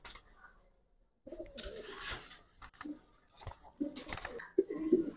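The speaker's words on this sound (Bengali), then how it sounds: "একদম লাল মাকড়া কবুতর" A red makra pigeon coos in low bursts amid broadband rustling and handling noise, starting after a short quiet gap and growing louder toward the end.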